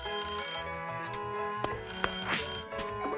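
An alarm clock in the video game A Space for the Unbound rings continuously for about three seconds, a bright electronic tone with a steady pulsing rhythm that stays fairly quiet throughout.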